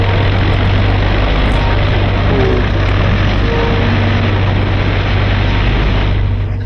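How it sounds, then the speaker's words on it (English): Several P-51 fighter planes warming up their piston engines on the flight line before a long-range bomber escort mission, a loud, steady, dense propeller drone with a constant low hum, running continuously with no voices. "Out on the line, General Moore's P-51s are warming up for the longest fighter flight on record."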